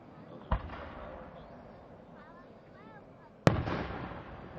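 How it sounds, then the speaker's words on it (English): Two fireworks bursts boom over Lime Rock race track, a softer pop followed three seconds later by a louder crackling blast, with faint chirping sounds in the open-air background between them. "You guys gotta see fireworks."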